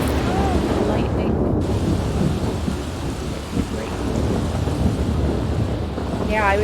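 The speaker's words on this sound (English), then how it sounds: "Oh, lightning." Thunder during a lightning storm in The Sims 3: a loud, sustained rumbling roar with rain-like hiss filling the whole stretch, with a faint chirpy tone near the start and end.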